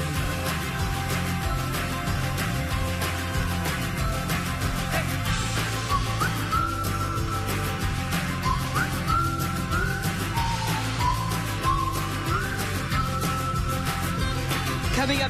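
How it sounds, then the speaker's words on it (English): A former Singapore National Day theme song, an upbeat pop song playing continuously at full volume, with a sung melody over a steady band backing. "A former National Day theme song."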